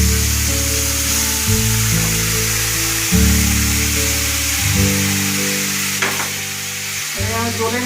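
Ginger paste tipped into a hot pan while cooking a spicy Parshe fish curry, a steady loud sizzle and hiss with a faint electric hum underneath, close and continuous.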